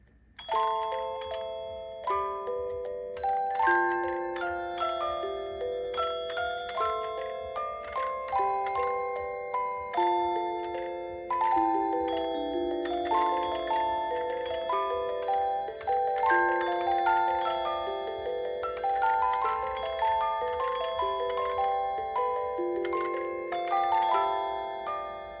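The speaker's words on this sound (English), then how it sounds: "There is the musical Bell Symphonium." A Mr. Christmas Musical Bell Symphonium music box rings out a melody in clear, bright bell tones, with steady melodic notes and chords sustained across the whole passage and no voices.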